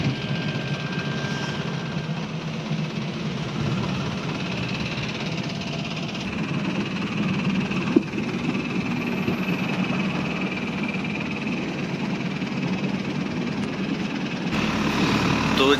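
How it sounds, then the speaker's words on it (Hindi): A boat's engine chugs steadily at close range as the boat pulls away from a Thailand beach, a continuous rumbling drone that swells slightly near the end. "तो जी ये बोट चल पड़ी"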